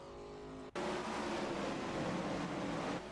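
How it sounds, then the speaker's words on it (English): Several race cars circle a track during a caution after a crash into the inside wall, their engines a steady broad roar after a brief sharp cutoff near the start, fairly distant and continuous. "Several cars going around"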